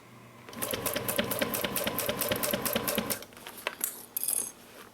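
A sewing machine runs steady stitches through a Mini Box Tote for about three seconds, a rapid even rhythm up close, then stops and gives way to a few light handling clicks and rustles.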